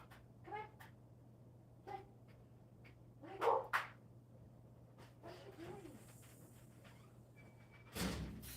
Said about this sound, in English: Oh my gosh, my dog is barking.